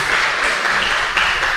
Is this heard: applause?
yes